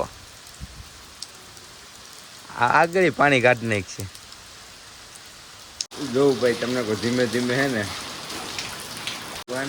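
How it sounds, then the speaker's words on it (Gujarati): Steady rain hissing in the background throughout, with someone talking over it in two stretches. "વરસાદ વધી ગયો ચાલુ જ છે ભાઈ"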